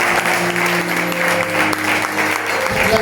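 A church congregation applauds together to acclaim the Lord, with sustained, dense clapping throughout and a steady low tone sounding beneath it.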